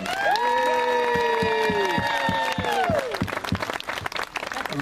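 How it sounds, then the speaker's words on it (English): Applause at a school event for seven award nominees: clapping and some cheering from the crowd, with a sustained, gliding tonal sound ringing over the first three seconds before the clapping carries on alone. "let's give a big round of applause for our 7 nominees."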